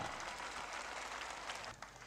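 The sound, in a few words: audience applause welcoming Dr. Laxman Yadav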